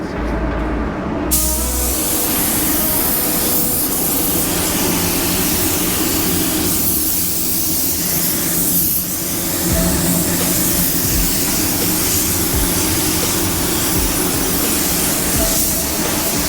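Spray gun laying a wet coat at 20 PSI, a steady, loud, continuous hiss of atomised air running without a break, close by.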